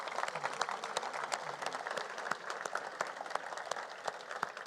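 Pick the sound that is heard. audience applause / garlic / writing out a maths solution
audience applause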